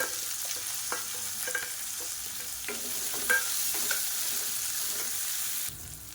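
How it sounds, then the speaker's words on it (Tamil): Finely chopped onion frying and being stirred in hot oil with green chillies, for a brinjal gravy, giving a steady close sizzle with intermittent scraping clicks of the spoon throughout. "இப்போ பொடியாக நறுக்குனா வெங்காயம் சேர்த்துக்கலாம்."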